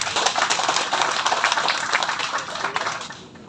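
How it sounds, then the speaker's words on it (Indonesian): Loud, dense applause from a large audience at an Islamic tabligh akbar and halal bihalal gathering, a sustained wash of many hands that eases slightly toward the end. "Tepuk tangan buat Pak Haji."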